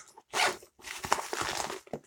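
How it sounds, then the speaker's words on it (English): A bag zipper is pulled open in two short, raspy bursts, close and clear, with a brief gap between them and a tiny tug at the end. "Then you got a zipper here."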